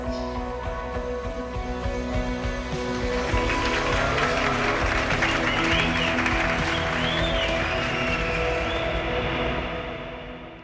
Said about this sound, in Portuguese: Esses aplausos e o clima festivo que você ouviu são da festa de casamento do irmão mais novo da Cristina